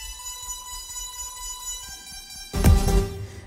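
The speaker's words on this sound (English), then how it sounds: "that's kind of like a background lead" Sugar Bytes Cyclop software synth playing a trance-pop background lead: a steady sustained tone with dense stacked harmonics, joined near the end by a loud, bright burst of fuller sound with heavy low end.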